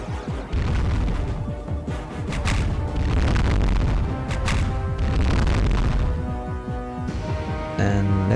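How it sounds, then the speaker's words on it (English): Portal cannon attack in the space strategy game Halcyon 6: a dense run of loud, booming blasts and crashing impacts, repeated rapidly and continuously over several seconds. "Let's add a bit of portal cannon on this guy."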